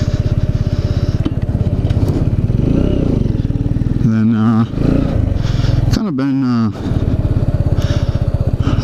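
A Kawasaki Z125 motorcycle with stock exhaust idles and burbles steadily throughout in a parking lot, fairly loud and close, while someone talks over it.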